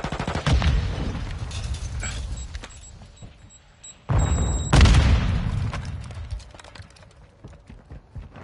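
A Semtex grenade going off in the video game Invasion, heard as loud booming blasts against steady background game noise, with a big burst near the middle followed by a decaying rumble.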